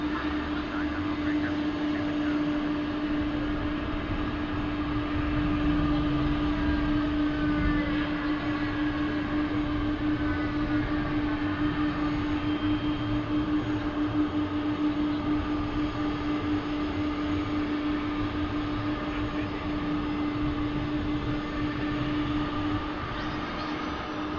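A jet airliner landing at DFW International Airport gives a steady, loud engine roar with a sustained whine, holding constant for the whole stretch.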